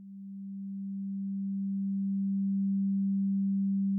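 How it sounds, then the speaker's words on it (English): Drambo oscillator generating a steady low sine tone, a single pure hum held unchanged for the whole stretch, alone and clean with no other sounds. "To generate a sound, we need something to generate, and in a lot of cases that will be an oscillator."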